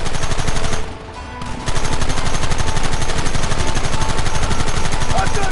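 Rapid, sustained gunfire from shooting at targets, dense continuous bursts like machine-gun fire with a brief lull near the start, loud and close throughout.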